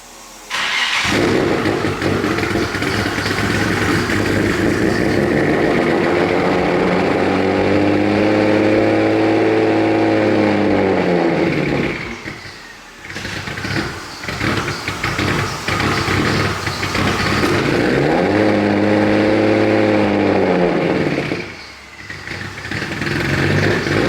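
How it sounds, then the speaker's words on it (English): A Nissan Turbo Z engine starts on a cold morning and settles into a loud, steady idle, with a brief dip and blip midway before the even idle resumes for the rest, no voices. "let's fire this bad boy up"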